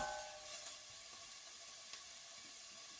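Onion sautéing in a pan for a Portuguese refogado, a soft, steady sizzle and hiss with no talk, faint and continuous.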